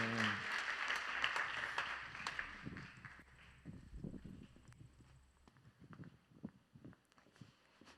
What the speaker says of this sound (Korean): 역사하실 주님께 우리 큰 영광의 박수를 올려드리겠습니다